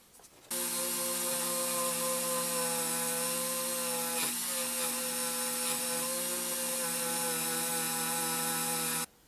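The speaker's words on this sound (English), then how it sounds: "Now I'm going to put some steel on my Dremel and we're going to do a high speed pass and kind of clean this up" A Dremel rotary tool with a steel bit makes a high-speed cleanup pass on a Chevy 210 model, spinning up abruptly into a steady, loud, high-pitched whine with a brief dip midway before cutting off near the end.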